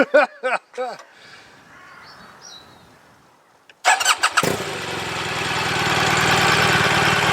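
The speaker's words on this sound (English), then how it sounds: "starting the engine, sir. Start that engine." A voice speaks briefly, then a motorbike engine cranks and catches, settling into a loud, steady idle that swells slightly as it runs.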